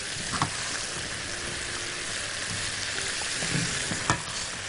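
Thick-cut potato slices land on minced onions frying in a pan, a continuous close sizzle with a couple of brief knocks from the pan or spoon, with no talking.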